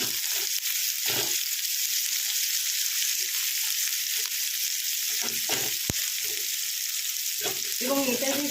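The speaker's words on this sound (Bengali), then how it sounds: "এবার আমি পেঁয়াজগুলো দিয়ে দেবো ভালো করে এটা বেরেস্তা করে নেব" Onions frying toward golden brown in a flat-bottomed pan on an induction base, a loud continuous sizzle broken by spatula scrapes and stirring clatter.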